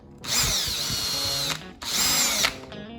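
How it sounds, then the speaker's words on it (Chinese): An electric drill bores a hole into a part of a household electric fan in two loud, close bursts, a long high whine and then a shorter second run with a brief pause between. "先用电钻"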